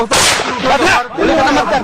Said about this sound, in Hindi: भालू पर ये जहाँ गोलीबारी हो रही है,